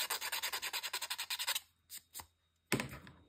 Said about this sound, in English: you take your blade and scrape it off.